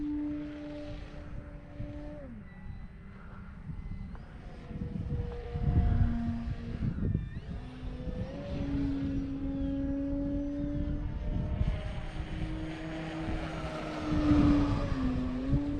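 An E-flite Carbon-Z T-28 RC airplane flies at a distance, its electric motor whine rising and falling in pitch as it passes, moderately faint and alone.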